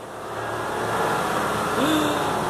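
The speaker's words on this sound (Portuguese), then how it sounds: "Aí passa o caminhão justamente na hora que eu estou gravando." A truck passes by outside as a rising, steady engine roar that swells and stays loud, with a faint tonal whine near the end.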